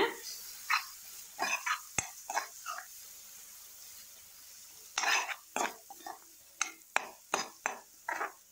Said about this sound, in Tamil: சேர்த்துட்டு எல்லாத்தையும் நல்லா ஒரு வாட்டி சேர்த்து வதக்கி விடுங்க